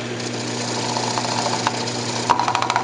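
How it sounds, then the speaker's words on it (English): A wood lathe spins a segmented bowl with a steady motor hum while a bowl gouge cuts, with light scraping and a quick run of chattering ticks near the end. "I'm just gonna take my bowl gouge and just cup it out a little bit."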